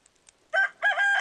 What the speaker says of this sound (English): Cock-a-doodle-doo.